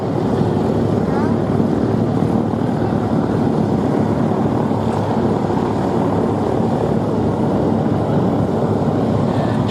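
An RAF Chinook helicopter flies a display at the Duxford Air Festival, a loud, steady rotor and engine roar that holds without pause throughout, with faint talk beneath it.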